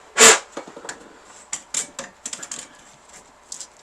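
Hand cleaning of sticky dust from a 1963 Royal FP typewriter gives soft, irregular scrapes, taps and clicks, starting with one louder rustle and followed by scattered quieter knocks close by.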